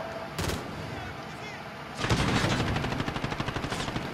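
Automatic gunfire in Modern Warfare, loud and close: a short burst, then a long rapid stream of evenly spaced shots.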